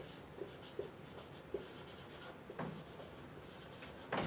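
Faint, scattered strokes of writing on a board during a real-analysis math lecture, with soft scratches and taps at irregular intervals and no talking.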